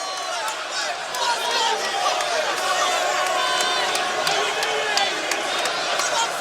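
Crowd at an MMA fight between Butterbean (Eric Esch) and Rob Broughton, a loud arena of cheering, whoops and shouts, steady and enveloping, with voices talking over it.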